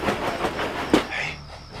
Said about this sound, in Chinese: 是军列。